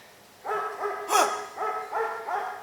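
Several dogs bark in a loose series of about five or six short, moderately distant barks on a quiet background, with one louder sharp burst near the middle.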